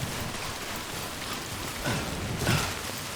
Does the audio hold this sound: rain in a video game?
yes